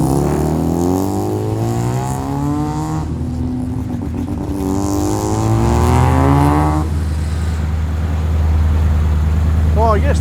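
A car nicknamed the school bus pulls away from a car show at Penrith Homemaker, its loud, low engine drone shifting in pitch as it revs and moves off, with crowd noise in the background.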